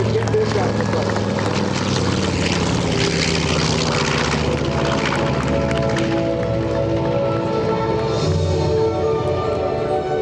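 A North American B-25 Mitchell, a WWII twin-propeller bomber, drones loudly and steadily overhead at the NAS Patuxent River air show, its deep engine roar filling the whole stretch, with voices audible in the background.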